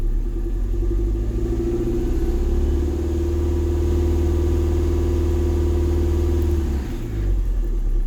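Turbocharged engine of a Toyota MR2 Mk2 GT T-bar, unused for over five years, held at a raised steady rev while misfiring, giving a loud, continuous uneven rumble that drops away near the end.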